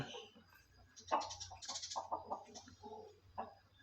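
A flock of fighting chickens clucks and calls in short bursts close by, several birds overlapping over a low background hum.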